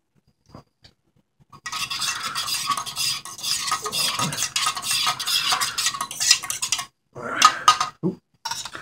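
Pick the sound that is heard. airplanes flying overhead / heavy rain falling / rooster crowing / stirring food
stirring food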